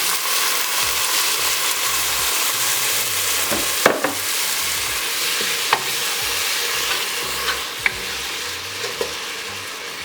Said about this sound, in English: Now we're just gonna add in a tiny bit of the beef broth.